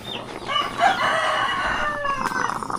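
A rooster crows in one long, drawn-out call, loud and fairly close, with its voice rising and then trailing off over about two seconds. Faint background noise sits under it.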